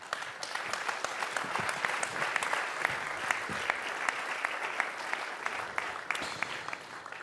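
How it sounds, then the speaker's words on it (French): Audience applause for the speakers at a conference on defence funding, a steady dense patter of many hands clapping throughout, moderately loud with no speech over it. "Je vous demande d'applaudir les intervenants."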